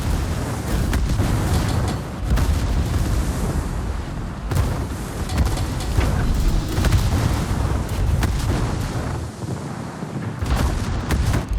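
A battleship in World of Warships fires a full broadside, heavy booming gunfire and explosions rolling on continuously, loud and dense with little pause.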